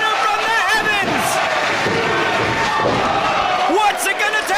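A large wrestling crowd in Philadelphia roars and cheers loudly and continuously, with shouts rising out of the din and occasional thuds from the ring, under a commentator talking excitedly.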